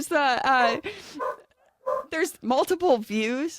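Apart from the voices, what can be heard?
small dog barking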